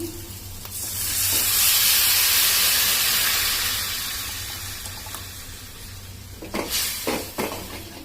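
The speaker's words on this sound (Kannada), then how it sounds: "ಇವಾಗ ಇದಕ್ಕೆ ನೆನೆಸ್ಕೊಂಡಿರೋ ಹುಣಸೆ ನೀರನ್ನ ಹಾಕ್ತಾ ಇದ್ದೀನಿ." Soaked tamarind water poured into fried onions in a pan for tamarind gojju: a loud surging hiss of steam and sizzle that swells then slowly fades, followed by a few clattering stirs, close with no talk.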